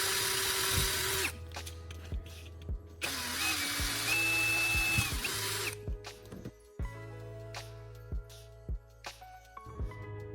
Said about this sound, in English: I'm drilling holes into each of the marked points on the can bottom